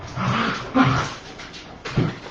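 Dogs whimpering and yipping while they wrestle indoors, several close, uneven whiny bursts with soft scuffling between them.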